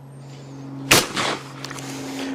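A Browning semi-automatic shotgun fires a single loud, close blast outdoors, with a brief echoing tail after it over a steady low background hum.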